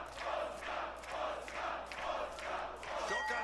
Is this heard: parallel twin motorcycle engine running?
no